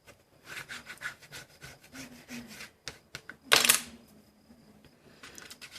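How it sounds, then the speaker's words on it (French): Very thin sticky tape rustles and crinkles as it is handled and pressed down, with one sharp, loud rip of tape pulled from the roll midway. "je vais mettre un scotch vite fait"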